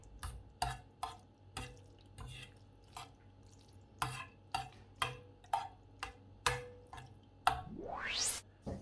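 Feta pasta sauce is stirred and mixed in a pan, with a steady series of sharp utensil clicks and scrapes at roughly half-second intervals, ending in a rising squeak.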